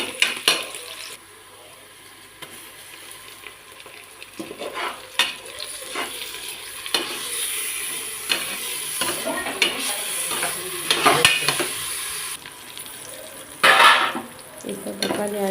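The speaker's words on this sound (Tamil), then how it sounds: "இஞ்சி பூண்டு ஆட் பண்ணிட்டு புதினா கொத்தமல்லி ஆட் பண்ணிக்கணும்." Ginger, garlic, mint and coriander sauté in a pan for a prawn biryani, with a busy sizzle under repeated close scrapes and clinks of a spoon against metal, louder bursts coming as the mixture is stirred.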